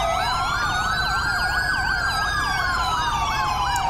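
Several emergency vehicle sirens wail at once in a GTA 5 roleplay game, overlapping rising and falling tones that sound loud and continuous over a low hum of road traffic, with no voices.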